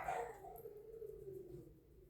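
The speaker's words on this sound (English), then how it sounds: "My dogs just went crazy." Dogs howling and yipping together in a long, wavering, drawn-out call with no talk, fairly quiet and steady throughout.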